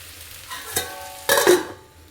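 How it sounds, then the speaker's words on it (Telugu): Raw lentils (dal) fry and are stirred in a pan: two short scraping, sizzling strokes over a soft constant frying hiss, close and without talk. "ఇంకా పప్పు అయితే మంచిగా వేగిపోయింది కదా"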